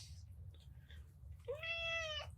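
A single clear cat meow, fairly close, rising and then holding for about a second over a low steady background hum, with no talking alongside it.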